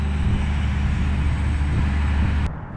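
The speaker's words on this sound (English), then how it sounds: "Apologies for the background noise, they're kind of busy on the old crane." A crane works nearby, giving a steady low mechanical rumble with a broad noisy hiss that holds evenly, then cuts off sharply near the end; no one talks.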